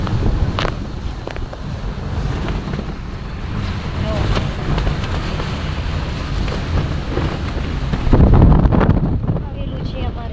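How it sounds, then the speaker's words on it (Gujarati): Strong storm wind gusts hard and steadily, roaring and buffeting the microphone, with a heavier gust near the end; voices speak faintly in the background. "આજે વાવાઝોડું આવ્યું છે"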